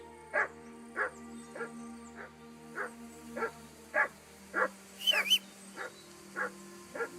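A dog in Kingdom Come: Deliverance 2 barks about a dozen times in a steady rhythm at moderate distance, over a quiet hum of game ambience.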